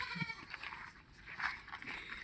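Goat bleating outdoors, a few short nasal calls rising over a busy, noisy background with no clear talk.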